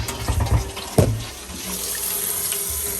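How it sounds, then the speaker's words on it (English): Water runs steadily from a newly reinstalled kitchen faucet, with a few knocks and clatters near the start before the flow settles into a constant close hiss. "I already turned the water back on. Let's see if there's leakage."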